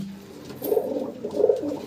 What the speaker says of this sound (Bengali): এই যে হচ্ছে পায়রা।